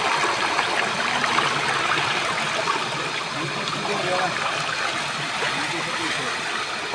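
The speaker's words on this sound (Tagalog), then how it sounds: "Ayan yung tunog ng tubig." A stream flows steadily near a village, a continuous close rush and trickle of water that fills the whole stretch without breaks.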